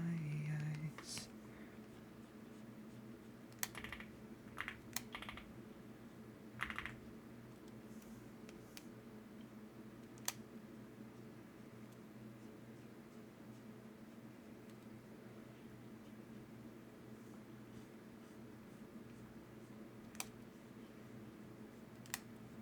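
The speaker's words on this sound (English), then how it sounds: "Is your keyboard with the green clicks?" Faint, sparse clicks from a mechanical keyboard with green clicky switches, a few isolated sharp keystrokes scattered over a quiet background hum.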